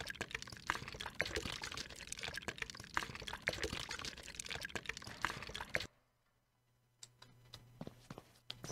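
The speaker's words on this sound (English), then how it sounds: "Let's pour it in." Concrete pours in a steady, dense, rushing stream in the video game Landlord's Super, loud for about six seconds, then stops abruptly and leaves quiet with a few faint taps.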